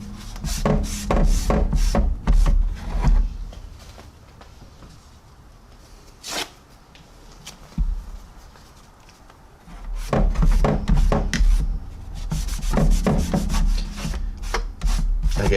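Weathering paint is rubbed off a 1/32 Trumpeter EA-18G Growler model jet, giving close, brisk scratchy rubbing strokes in two busy bursts separated by a quieter pause with a few isolated scrapes.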